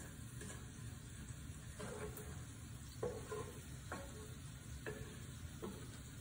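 Garlic sizzling in olive oil in a pan as it is spread around, a steady frying hiss with several soft scraping stirs breaking through at intervals, no talk.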